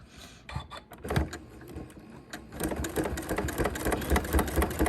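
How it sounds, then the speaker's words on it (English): A sewing machine stitches a shirt placket in bursts, short runs at first and then a longer, steadier whirring run, close up with no talk. "I'm just gonna continue stitching to meet this up."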